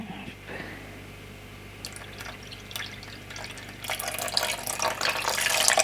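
About 50 ml of water is poured into a slow cooker, starting with a few drips and then building into a louder, steady splashing trickle, with no one talking.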